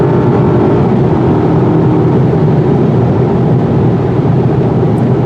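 A 2019 Volkswagen Passat's 4-cylinder turbo engine accelerating, heard from inside the car as a loud, steady, broadband drone of engine and road noise with no talking.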